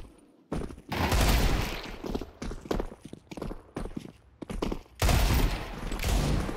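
Rapid-fire gunfire in Counter-Strike 2, loud dense bursts of shots in quick succession broken by short gaps, with a final sustained volley.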